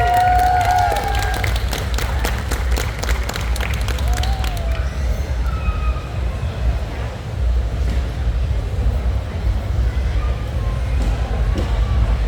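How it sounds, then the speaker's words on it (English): Crowd applause and cheering greet a contestant at a pinup pageant held at a tattoo expo, a dense continuous patter of many hands with a few whoops, sustained throughout and partly overlaid by a speaking voice early on. "Round of applause, please."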